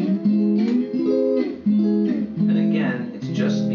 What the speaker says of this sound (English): So an augmented chord sounds like this.